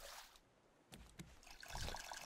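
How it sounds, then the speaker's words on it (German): Water filling a container in the survival game Raft, heard as a soft splashing trickle that rises in level toward the end, faint at first and closer and fuller after a couple of brief knocks. "Das Wasser wird befüllt."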